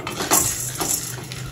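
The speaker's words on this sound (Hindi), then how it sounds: "और अभी फटाफट इसको चलाते हैं।" Popcorn kernels with turmeric and salt are stirred in a pot, giving a few quick metallic scrapes and clinks over a low rustle, brief and close.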